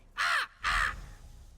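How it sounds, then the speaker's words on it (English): Two loud, close crow caws in The Elder Scrolls Online, each a harsh rasping call about a quarter second long, separated by a short gap and followed by quiet background ambience. "Pay the crows no mind. They're nothing but an annoyance."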